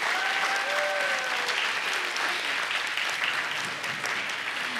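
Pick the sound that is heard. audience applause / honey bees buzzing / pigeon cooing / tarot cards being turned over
audience applause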